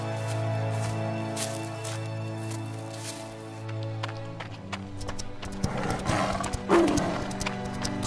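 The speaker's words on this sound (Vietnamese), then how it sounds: "Thôi nguy to, sói dữ" A fierce wolf in an animated 3D Vietnamese fairy tale growls and snarls, building to louder, harsher bursts near the end over a continuous musical score.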